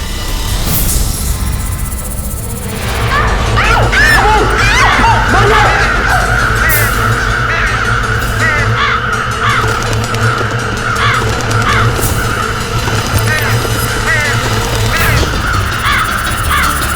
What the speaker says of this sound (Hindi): ब्लडी काला कौवा, उसने हमें अटैक किया है।